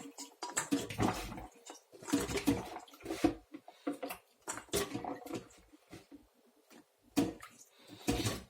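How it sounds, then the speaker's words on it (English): Freshly harvested carrots are swished and rubbed in water, giving irregular splashes and sloshing bursts with quiet gaps between them, close up, and a voice speaking briefly in the background. "I'm going to give these a good wash now"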